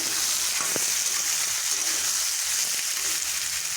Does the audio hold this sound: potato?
yes